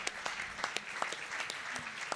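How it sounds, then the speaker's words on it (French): Applause for award winners at a real estate directors' gala, a steady patter of many hands clapping across the room for a couple of seconds. "on peut les applaudir"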